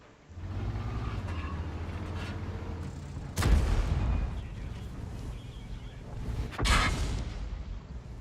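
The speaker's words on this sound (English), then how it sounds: "Another HE round from a vehicle in the proximity that shot at me." High-explosive shells from a nearby vehicle strike a Type 4 heavy tank in a video game: two sharp, loud blasts a few seconds apart cut through a low, constant engine rumble.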